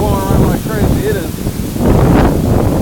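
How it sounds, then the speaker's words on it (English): Strong Hurricane Irma wind in Jacksonville, Florida, a loud, continuous roar of wind buffeting the microphone with gusts swelling near the end, trees thrashing, and a voice speaking over it. "It's super windy out here."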